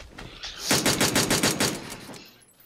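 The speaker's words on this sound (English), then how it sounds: "somebody's shooting" Rapid bursts of gunfire in the PUBG battle-royale game, a fast automatic volley of about a dozen sharp shots over roughly a second and a half, fairly close, fading at the end, with no talk over it.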